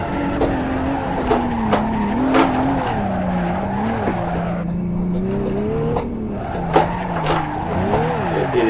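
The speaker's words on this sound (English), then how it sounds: "at the moment he's just doing donuts." Car spinning donuts in Assetto Corsa, engine revving hard with wavering pitch while tires squeal and skid continuously, loud and close, with occasional sharp clicks and some talking mixed in.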